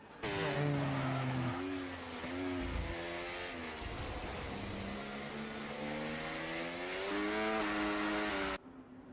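Race car engine in a racing video game held at half throttle, a loud steady drone with rising and falling harmonic pitch across the whole stretch, slight revving swells, cutting out abruptly near the end.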